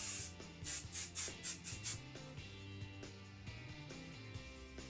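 Hairspray is sprayed onto a half wig styled in victory rolls: a quick series of about seven short hissing bursts, close and crisp, over soft background music.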